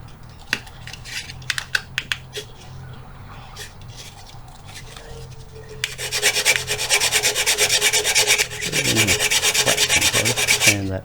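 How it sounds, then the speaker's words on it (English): Sanding a wooden part of a Caldercraft HMS Victory model ship: after scattered light taps and handling clicks, close rhythmic rasping strokes of abrasive on wood start and continue steadily and loudly, with no talk. "Sand that back a little bit, so it's nice and flat."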